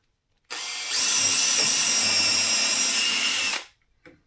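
A power drill bores down into wood while working on rails, a loud continuous whine that starts abruptly, holds steady for about three seconds, then spins down and stops, followed by a faint tap.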